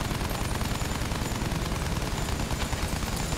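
Rapid continuous gunfire in the Battlefield 1 video game, a dense rattling burst of fast shots sustained at a steady loud level.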